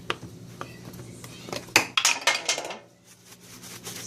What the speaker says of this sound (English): If I can get this thing opened.